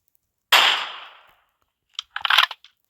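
A single sharp rifle-like shot in a shooting game rings out with a decaying tail, followed about a second and a half later by a quick cluster of smaller crackling reports, otherwise silent.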